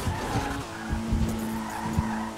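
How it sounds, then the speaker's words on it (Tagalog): A police car speeds past with tires skidding, producing a loud, sustained tire squeal over engine rumble, with a few thumping bursts along the way. "Kotse ng pulis, ang bilis."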